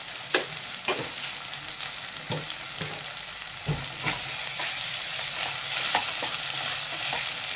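Turmeric, coriander powder and yellow masala sauté in a pan for veg pulao, a steady sizzle with a dozen or so scrapes and knocks of a spoon against the pan throughout, no talking.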